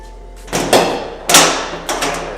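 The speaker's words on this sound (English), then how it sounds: "And all the stall walls are metal, right? So then when you close the door," A metal toilet stall door swings and clanks shut in a restroom, giving several loud bangs and rattles with a ringing metallic edge, close by, over a faint steady hum.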